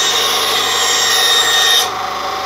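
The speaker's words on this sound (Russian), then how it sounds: "Пиляю без ускорения, чтобы было видно, как оно реально пиляет." An Einhell TC-SB 200/1 band saw cuts through wood with a steady, loud rasping whine close by. The sound eases off near the end as the cut finishes.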